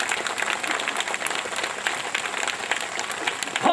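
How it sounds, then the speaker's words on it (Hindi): A crowd at a political rally in Bahraich applauds continuously, dense clapping from many hands that is steady and fairly loud, with faint voices mixed in. "ताली बजाते रहे भैया, महिलाओं का स्वागत हो रहा है।"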